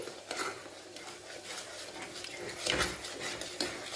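A spoon stirs masala mixed with curd in a pot of chana dal, making soft, intermittent scrapes and light clinks against the metal at a quiet, close level, with no voices.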